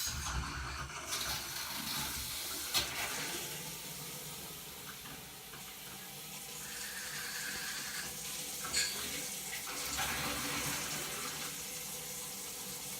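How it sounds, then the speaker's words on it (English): Tap water runs steadily into a sink and drains through a newly installed P-trap, a continuous close splashing wash with a couple of small clinks along the way. "We'll turn on the water."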